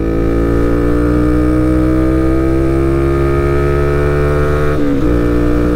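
A sporty car engine pulls hard in third gear from about 50 km/h, a loud, close, steady drone rising smoothly in pitch. Near the end it dips briefly, as if easing off or shifting.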